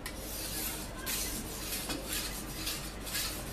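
A long shawarma knife, over 30 centimetres, being honed with a steady, gritty metallic scraping that repeats in rough strokes, close and fairly loud with no talk.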